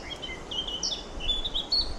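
A small bird gives a run of thin, high chirps and short whistled calls, fairly close, over faint outdoor background noise in Sherwood Forest.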